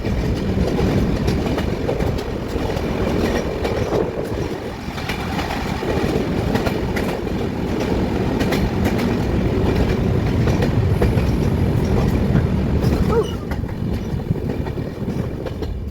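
A train passes close by with a loud, continuous rumble and rattling wheel clatter that holds steady for the whole stretch, with no voices over it.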